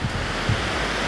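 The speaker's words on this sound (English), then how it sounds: "the sound of the ocean and the beauty of Barbados never gets old" Ocean waves washing onto a beach in Barbados, a loud, continuous broadband rush of surf with slight wind buffeting and no voices.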